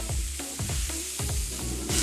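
Fresh vegetables and button mushrooms sizzle steadily on a barbecue grill plate, with a continuous hiss and several soft scraping stirs from a utensil close by.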